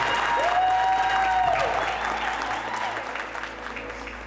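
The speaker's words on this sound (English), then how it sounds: "So if we can clap it up for my father" An audience claps steadily for the speaker's father at a hometown hero event, sustained applause that holds loud, then slowly thins toward the end.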